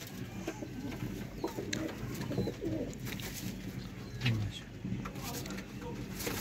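Soft, low cooing from a loft of domestic pigeons of the Miyan Sahab 79 and Master Abdullah strains, repeating gently at a distance beneath men's conversation.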